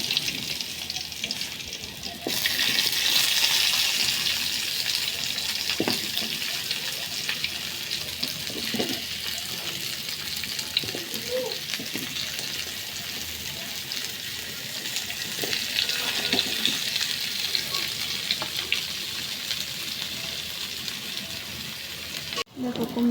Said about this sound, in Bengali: কুমড়োটা ভেজে নেব।